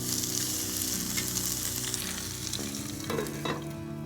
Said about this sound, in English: So now it is time just to throw our peppers and onions in.